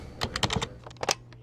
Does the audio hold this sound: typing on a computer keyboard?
yes